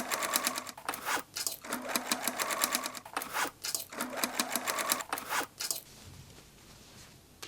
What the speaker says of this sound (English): stitch on a sewing machine